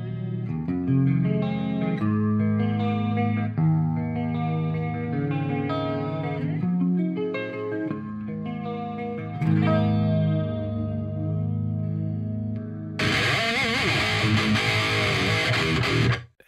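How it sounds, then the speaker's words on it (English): Clean electric guitar through the clean channel of an Amplitube Solidus Randy amp model with chorus and EQ, playing steady chords with shimmering modulation, then switching near the end to a brighter, denser tone, loud and alone. "whenever I do cleans, I do switch over to the clean channel of the Solidus Randy with a chorus and another bit"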